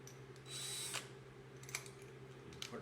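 An electric drill fitted with a Forstner bit in a woodworking shop whirs in a short burst of about half a second, followed by faint clicks and handling noises, close and fairly quiet.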